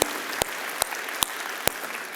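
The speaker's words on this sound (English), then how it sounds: "would you applaud for a bunch of people that made that courageous decision?" A church congregation applauds, a dense, steady wash of clapping punctuated by a few sharp, louder individual claps at regular intervals, with no speech over it.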